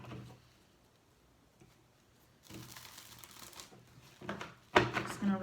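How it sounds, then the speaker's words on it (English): Tarot cards being shuffled by hand, with soft riffling and sliding bursts that start quiet and build into louder, brisk flurries toward the end. "Just gonna really shuffle them because I've been doing a lot of readings."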